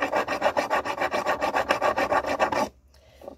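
A file rasps at a soldered silverware heart in quick, regular strokes, about a dozen close passes over nearly three seconds, then stops abruptly and leaves faint quiet.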